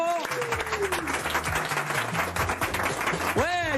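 Applause rings out in a TV cooking show studio during a holiday-menu episode, steady clapping running under lively talk and exclamations, with sweeping tonal sounds at the start and end.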